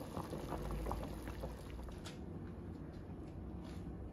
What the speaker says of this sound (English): now that we have boiled our smoked neck bones for about 25 minutes, maybe 30 minutes